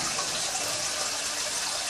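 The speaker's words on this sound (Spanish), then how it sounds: "Ahora le vamos a poner el agua." Water gushes steadily into a soup pot holding bones and meat, a close, continuous rushing pour with no talking.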